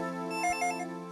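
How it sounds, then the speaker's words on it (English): A cell phone rings in the game Dragon Ball Z Legacy of Goku II as a short electronic chiming tone over steady game music, heard briefly and clearly. "the cell phone is ringing"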